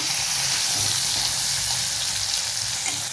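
Chopped tomato frying with garlic in a pan for a green onion leaf vegetable dish, a dense continuous sizzle at steady loud level throughout, with no talking.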